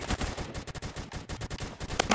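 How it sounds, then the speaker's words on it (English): Video game gunfire rattling off in fast, continuous bursts, loud and close, with rapid overlapping shots filling the whole stretch and a brief sharper crack near the end. "Who right there is shooting me?"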